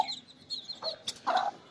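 Young domestic chicks (desi hens' brood) cheep in short high bursts, with a louder cluster near the end, fairly close and with no voices.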